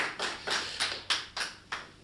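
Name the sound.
audience clapping at a Hindi poetry gathering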